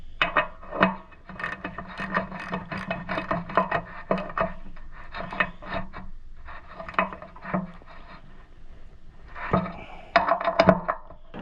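Repeated ratcheting and rubbing clicks come from bolts being tightened on the water pump of a John Deere 1020 tractor, in close irregular bursts with brief pauses.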